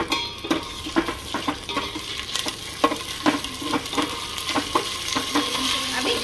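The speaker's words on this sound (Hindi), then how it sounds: "तड़का मारी हूँ" Cumin, curry leaves and mustard seeds sizzle in hot oil as a tempering for Telangana spicy rasam, a close, steady frying hiss broken by repeated scraping stirs of a spoon against the pan, with no talking.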